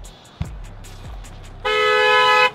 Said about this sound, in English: With the unnecessary honk